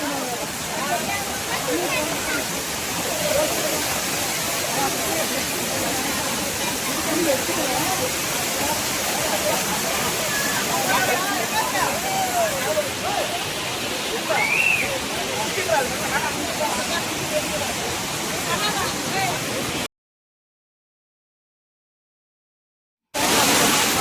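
Hogenakkal waterfall on the Kaveri river in Tamil Nadu gives a steady, dense roar of falling water, close and loud for about twenty seconds, with voices faintly mixed in before a brief gap.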